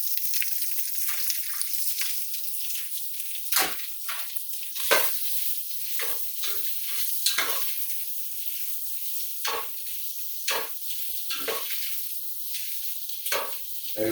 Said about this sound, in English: And want that andouille to cook at least about 3 to 4 minutes.